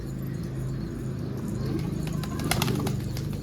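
A captured stray pigeon is held close, giving low, soft cooing tones, and a short burst of wing flapping rustles near the end.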